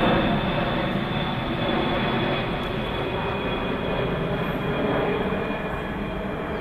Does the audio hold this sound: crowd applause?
no